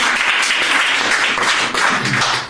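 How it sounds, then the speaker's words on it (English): A group bursts into loud, close applause after a solution is accepted, a thick steady clatter of many hands that briefly dips before carrying on. "Big clap, accepted."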